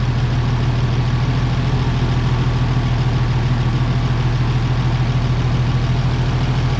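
An Oliver 880 tractor with a newly replaced carburetor idles in a steady low rumble, its engine note even and continuous throughout, close and moderately loud with no talk.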